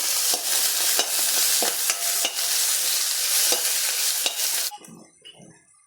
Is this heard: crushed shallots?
yes